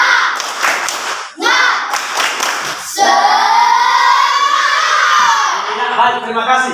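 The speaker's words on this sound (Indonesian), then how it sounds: "mari kita berikan tepuk semangat" A school class in a lesson breaks into a spirited round of applause with excited shouting, loud and close, building into a sustained burst of cheering and children's voices that fills the room.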